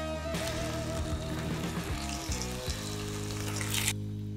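Pork chops sizzle and spit steadily in a hot Dutch oven as they brown, a continuous close frying hiss with bubbling crackle and no talk.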